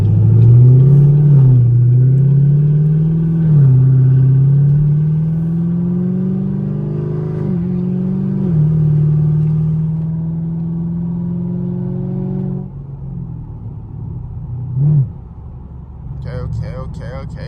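A catless straight-piped Camaro SS with a 6.2L V8 drones loudly from inside the cabin, its low exhaust note rising and falling with the throttle before easing off, while a voice speaks briefly.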